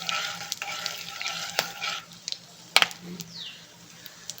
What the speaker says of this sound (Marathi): आता हे सगळे खडे मसाले याच्यात टाकून घेऊ आणि हे असे छान परतून घ्यायचे